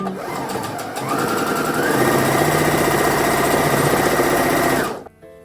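Close, loud sewing machine stitching sheet fabric, a steady mechanical whir that speeds up after a second, runs evenly, then stops abruptly near the end.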